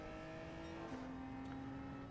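Genesis race car in Gran Turismo 7 holding a steady engine drone through a race, the tone stepping down midway as it shifts gear, continuous and close with no talk.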